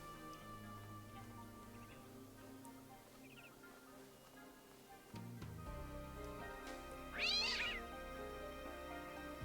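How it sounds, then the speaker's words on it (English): An angry cat in the video game The Talos Principle 2 gives short, strained meows over a steady, droning game ambience, with one louder yowl near the end. "Angry cat."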